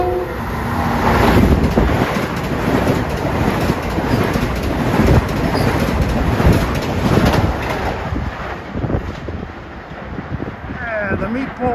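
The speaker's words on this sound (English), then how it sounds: "approaching westbound, 523, train 2763, Far Rockaway to Penn Station" Long Island Rail Road electric MU train, westbound from Far Rockaway to Penn Station, approaching Forest Hills station at evening rush: a steady, loud broadband rumble and rattle of wheels and cars throughout, with brief tonal horn or signal traces.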